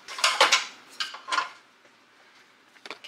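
Muffin batter for blueberry zucchini muffins being mixed in a bowl, with a run of loud scraping and clattering strokes early on that fade into quieter stirring and a few light knocks near the end, no talking.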